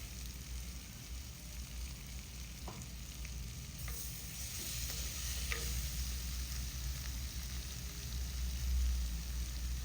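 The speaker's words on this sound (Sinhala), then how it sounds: "මම දැන් මේකට හාල් මැස්සන් ටික එකතු කරගන්නවා." Dry sprats (halmassan) fry in a pan for a curry, a steady close sizzle with occasional scraping clicks of a spoon stirring, no voices.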